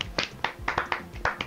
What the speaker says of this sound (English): I feel like we should applaud the chef.